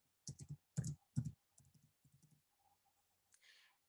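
Keystrokes on a computer keyboard typing a short phrase into a store search bar, with quick bursts of clicks at first, then lighter, sparser taps fading into quiet, close and clear with no talking.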